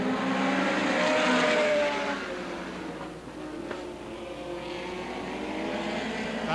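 Several NEMA midget race cars roar around Star Speedway in a 1993 heat race, engines droning from mid-distance as they pass, with a steady, fluctuating howl of multiple engines.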